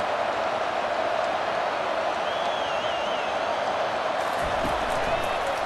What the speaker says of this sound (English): Listen to this crowd begging its defense to get a stop.